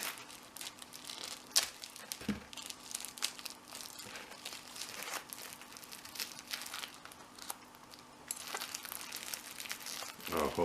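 Plastic packaging from a lock picking care package is crinkled, crushed and torn open up close. The rustling and tearing run continuously, with a few sharper rips along the way.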